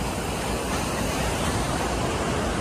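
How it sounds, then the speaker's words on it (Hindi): Gentle sea waves wash onto Calangute beach in Goa, a steady, full hiss of surf with no distinct breaks, close and continuous, with no voices. "इधर प्यारी प्यारी लहरों की आवाज़"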